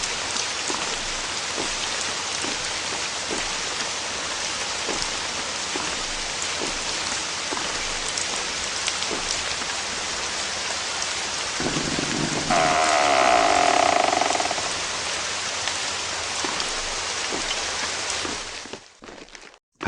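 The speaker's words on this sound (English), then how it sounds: "Great weather. I love the rain," Steady rain pours throughout a nighttime subway level in the Subway Horror Chapter 1 game, a dense continuous hiss broken briefly by a louder mechanical burst near the end before fading out.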